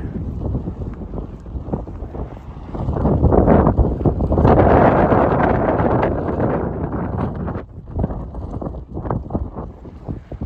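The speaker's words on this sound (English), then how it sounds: "windy day up here." Loud, blustery wind buffeting the microphone, rumbling and gusting throughout with a stronger surge in the middle.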